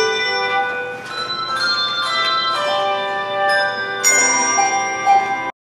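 A handbell choir rings a holiday standard, with overlapping tuned bell tones that strike and sustain in a steady melodic pattern, loud and close with no talking, before stopping abruptly.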